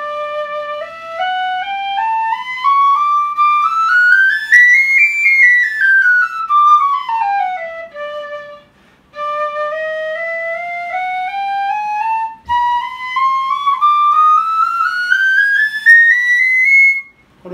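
A six-keyed Irish piccolo in D by Peter Worrell runs a chromatic scale alone, its clear bright tone climbing steadily, briefly dropping back, then climbing again in near, loud, continuous phrases.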